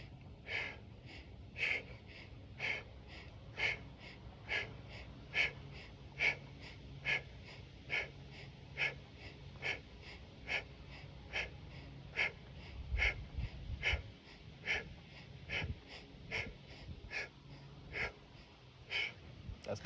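Deep rhythmic breathing during the Tibetan Rites yoga exercise, with steady paired inhales and exhales repeating about every second, close and clear over a low background, some heavier hip-raising breaths near the middle.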